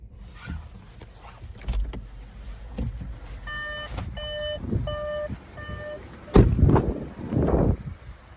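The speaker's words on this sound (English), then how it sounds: "If we put the vehicle into reverse, we can see that it comes with rear parking sensors." Rear parking sensor on a Seat Tarraco chiming in reverse: a run of evenly spaced, fairly close electronic beeps in short bursts, later followed by louder thumps and rustling handling noise.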